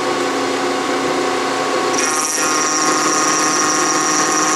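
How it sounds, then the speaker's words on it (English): Bridgeport milling machine taking a final climb-milling pass on a dovetail, a continuous loud motor hum with steady tonal whine, a higher cutting tone joining partway through. "now I'm climb milling, and I like that for a final cut"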